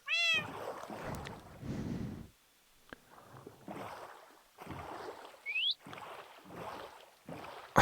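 A small boat glides over water in a Minecraft world, with repeated soft splashing, paddling bursts separated by brief pauses, plus a few sharp chirping game effects.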